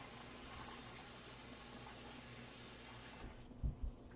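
Water pouring steadily for yarn dyeing, a continuous soft rushing flow that stops abruptly near the end, followed by a couple of low thumps, quiet and close with no talk.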